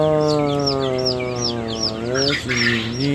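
Newly hatched baby chicks on a homestead cheep in a steady chorus of high, repeated peeps, loud and close, under a constant low hum, with no talking.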